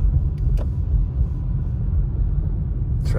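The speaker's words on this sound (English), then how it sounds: "Traffic is moving." Cars roll past on a snowy lakeside road at Big Bear, California, a low steady tyre-and-engine rumble close by with a brief higher hiss near the end.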